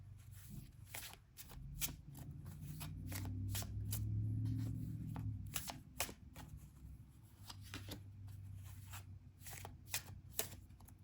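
Oracle animal cards are shuffled by hand, close up and fairly quiet, making a steady run of crisp riffling slaps and soft sliding rustles.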